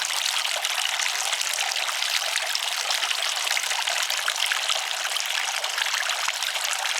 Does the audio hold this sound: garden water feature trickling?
yes